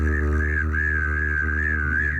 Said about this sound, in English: I was just humming and whistling at the same time.